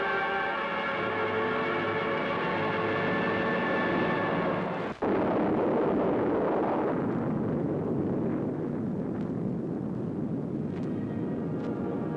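A bomb blast rolls out as a long, deep rumbling roar. It follows a steady droning hum that cuts off with a sudden crack, then fades slowly over several seconds.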